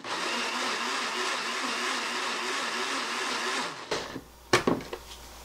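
A blender grinding mugwort with sugar and salt runs as a loud, steady whir for about four seconds, then stops, followed by a few knocks and clatters.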